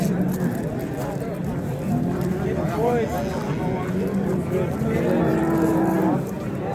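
A pied cow, eight months pregnant, moos several times, low and drawn out, amid a noisy livestock market in Choja with people talking nearby.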